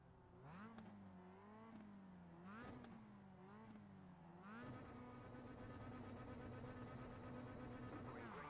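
Mazda MX-5 race cars on the grid of a racing game rev in a few rising and falling bursts, then launch into one sustained, strained engine drone.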